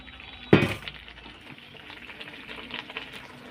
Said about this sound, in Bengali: এখন আমি সব আলু আর ইঁচড়গুলো দিয়ে দেবো